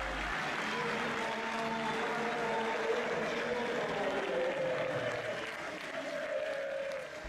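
A packed football crowd at La Bombonera applauds and cheers throughout, a dense roar of clapping and voices that keeps going with no break.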